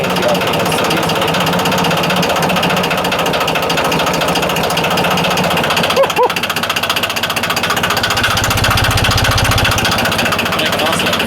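A restored 1989 Yanmar 2220D compact tractor engine runs steadily nearby with a mechanical clatter, its pitch and speed shifting as the throttle changes, with a brief dip and a rise in low rumble near the end.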